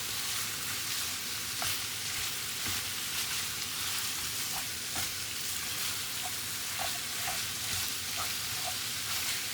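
Mild Italian sausage fries in a pan for chili, a steady close broadband sizzle running throughout with scattered small pops and crackles and no voices.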